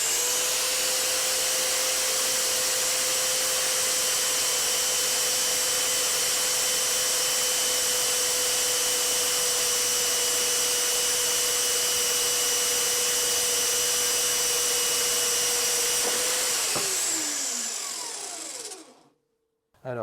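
A Parkside PMB 1100 B2 metal band saw runs steadily while making a 45-degree cut in metal, a continuous loud whine with a sustained tone that winds down near the end before going quiet.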